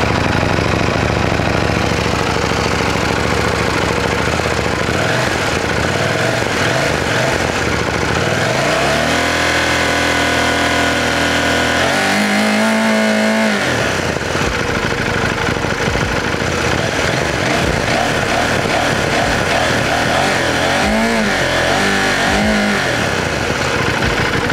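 A KTM Duke 790 motorcycle engine runs continuously, idling with a low burble and then revving up and down several times as gears are shifted down, loud and close throughout.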